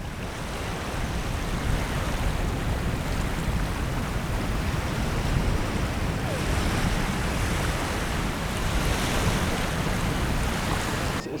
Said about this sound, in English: The sea has come right in now over the beach.